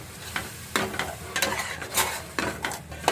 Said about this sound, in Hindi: अब मैं सारे मसाले को कम से कम 10 मिनट तक अच्छे से भून लेती हूँ।